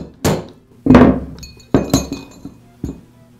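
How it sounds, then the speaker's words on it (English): A mallet taps the gear case of a DeWALT angle grinder into place over the bearing retainer, five sharp, close knocks at uneven intervals, each with a short metallic ring. "I'll give it a tap with the mallet."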